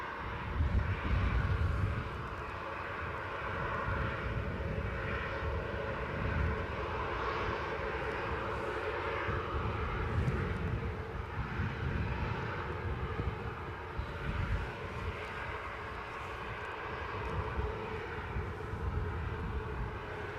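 An Emirates Boeing 777 departs Newcastle airport, its jet engines a continuous heavy rumble heard from a distance with steady loudness throughout.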